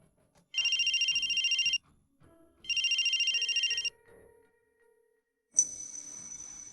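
An incoming call on a mobile phone rings with two bursts of a bright, warbling electronic ringtone, then a short third burst after a pause, clear and close in a quiet room.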